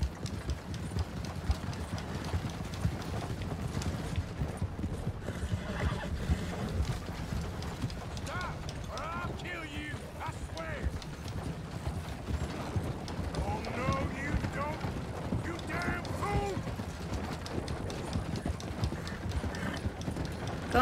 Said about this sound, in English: Maybe I should have chose a faster horse.